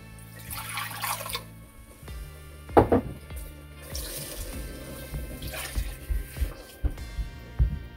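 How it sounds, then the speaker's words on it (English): Water is poured into cornmeal for Jamaican cornmeal porridge. Soft splashing and trickling are broken by a few light clinks of kitchenware, all quiet and close. "I'm gonna add 1 more cup of water."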